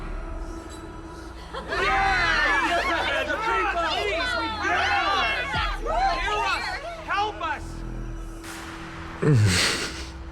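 A crowd of townspeople clamors in Honkai: Star Rail, a dense burst of many overlapping shouting voices that swells, dips and rises again, followed by a separate louder cheer near the end.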